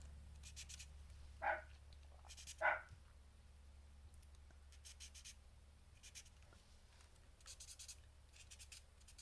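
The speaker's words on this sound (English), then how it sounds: "I really wish the dog would stop barking." Two short, sharp barks from a dog some distance away, spaced about a second apart, over a steady low hum and faint scratching sounds.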